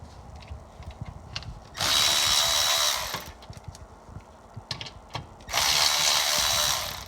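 A power tool removes the tunnel plate bolts on a Corvette C7 Stingray. Two loud, close bursts of whirring, each lasting about a second or more, are separated by clinks and handling noise in a garage. No one speaks.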